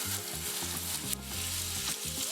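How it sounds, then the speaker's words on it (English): A rack of lamb sears fat side down in hot olive oil, crackling and sizzling loudly and continuously up close, with no talking. "Now we just want to get a nice sear all around all sides to get that caramelization."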